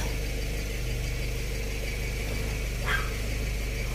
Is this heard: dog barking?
yes